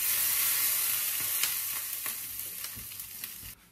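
Dampfnudeln sizzle and crackle in a pan once the lid is lifted, a close, steady frying hiss that gradually fades before cutting off abruptly near the end.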